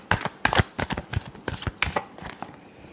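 Tarot cards being shuffled by hand close up, a quick run of crisp riffling flicks in bursts, fading toward the end with no talking.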